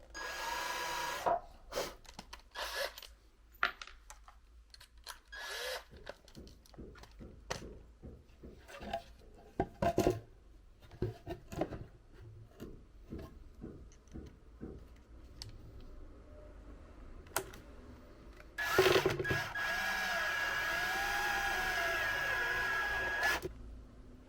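A wooden batten for a converted camper van being cut and worked with power tools: scattered knocks and taps, then a loud burst of machine whine near the end, heard alone in a quiet space.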